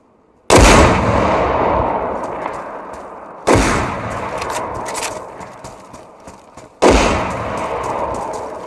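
Gunfire in a video game: three loud, separate shots, each a sharp crack followed by a long, booming decay, with no talking over them.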